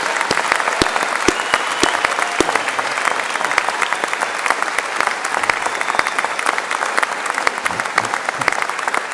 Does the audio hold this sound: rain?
no